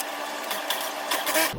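Home sewing machine stitching along a curtain edge, giving a short whirring mechanical run with slight surges in speed, fairly close and alone.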